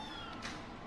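A male shelter cat lets out one short, faint meow, heard close by over a low background hiss.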